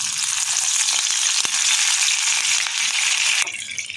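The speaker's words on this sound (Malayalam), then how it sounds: "എണ്ണ ചൂടായിരിക്കും. നമുക്ക് കരിവേപ്പില ചേർത്ത് കൊടുക്കാം." Curry leaves drop into hot oil in a pan and set off a loud, dense, crackling sizzle that runs steadily throughout, with no talking, made for a Kerala beef coconut milk curry.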